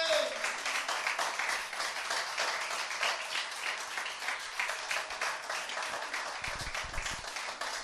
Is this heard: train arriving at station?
no